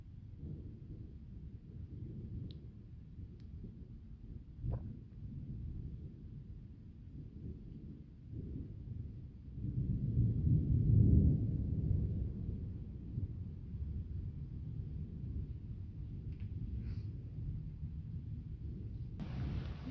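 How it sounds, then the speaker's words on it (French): Thunder from an approaching storm cell near Uzès, heard as low, steady rumbling with wind, swelling into a louder roll midway before easing back to a continuous distant growl. "L'orage est en train de vraiment se rapprocher."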